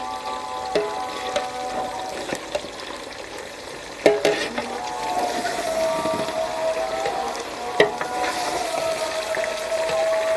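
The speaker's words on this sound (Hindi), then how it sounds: "अब हम इसको मिक्स करेंगे।" Chicken shorba mixture stirred in a pot, with a spoon clinking and scraping against the metal in irregular knocks over a steady low sizzle and bubbling.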